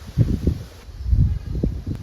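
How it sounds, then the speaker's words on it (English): Gusty wind buffets the microphone in low, uneven rumbling bursts, loud and close throughout. "it's a very windy day."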